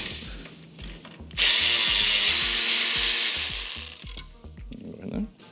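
A ratchet with an E12 socket works the catalytic converter bracket bolts on a 992 Porsche Carrera, a steady whirring mechanical run of about three seconds, framed by quieter ratchet clicks, close by.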